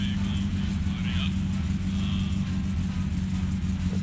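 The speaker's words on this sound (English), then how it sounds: "I'm gonna go ahead and downshift." A car engine in My Summer Car drones low and steady along a lake road, rumbling continuously through a downshift, with someone talking over it.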